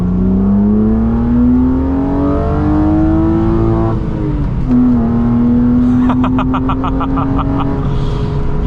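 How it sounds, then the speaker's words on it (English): A modified 1998 BMW M3 E36 with an aftermarket exhaust and intake holds a loud, steady engine drone close by, pitch climbing slowly before dipping and settling again, with a voice speaking briefly over the later part. "This also sounds way more mean with the various modifications he's done, the exhaust and such, the engine bay as well,"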